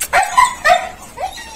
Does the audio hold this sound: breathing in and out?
no